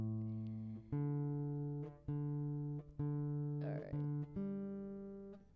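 Repeated plucks of a guitar string, each ringing a moment, as the tuning is adjusted bit by bit; a brief scraping noise falls midway.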